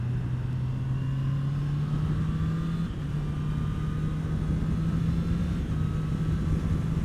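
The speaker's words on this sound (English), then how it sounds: "That quick shifter is so smooth." Honda CBR650R four-cylinder motorcycle pulling hard through the gears with a quick shifter, its engine note climbing in pitch, a brief dip at each seamless upshift, loud and close over wind rush.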